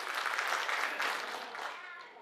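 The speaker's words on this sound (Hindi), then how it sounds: "उनके लिए जोरदार तालियां होना चाहिए" Audience applause at a Bihar Vikas Parishad gathering in Surat, a dense steady clapping wash from a seated crowd that holds for two seconds and slowly fades, mid-distance and fairly soft.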